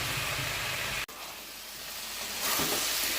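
Cabbage and potato bhujia frying in a pan, a continuous hissing sizzle broken by a brief drop in sound, then returning steadily and swelling louder near the end.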